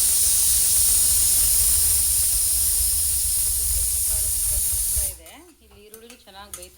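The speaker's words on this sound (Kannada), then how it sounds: "ಇಲ್ಲಿ ಈರುಳ್ಳಿ ಚೆನ್ನಾಗಿ ಬೇಯ್ತಾ ಇದೆ" Onions fry in a pan with a steady, loud, bright hiss and sizzle for about five seconds, then the sizzle drops away and a voice speaks.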